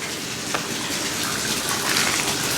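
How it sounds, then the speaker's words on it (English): Tap water pouring steadily into a fish tank, a continuous rushing gush heard close and moderately loud throughout, with no talking. "So this water's been running for a little bit, and I'm putting some water here."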